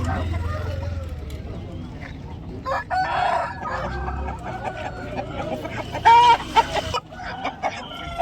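A rooster crows at a busy Sunday country chicken market in Vijayawada, with clucking fowl around it and people talking nearby, the crow rising loud and close near the end.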